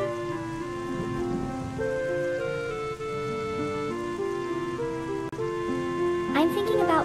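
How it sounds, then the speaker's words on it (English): Steady rain hiss in the video game Zelda: Wind Waker runs throughout, blended with sustained tonal game music and a brief brighter flourish near the end. "And it just has to rain for extra effect"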